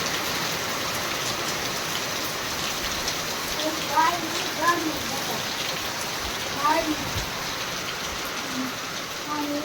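Steady rain falls across open farm fields, a continuous wash of drops with a few brief louder splashes and chirpy bird-like calls in the middle, heard alone without talk.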